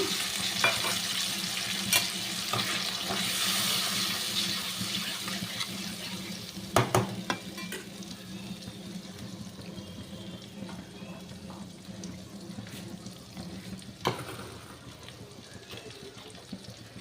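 Water is poured into a bowl of spices beside a sizzling pan of tempered spices, making a continuous frying hiss with light splashing and several faint clinks at close range.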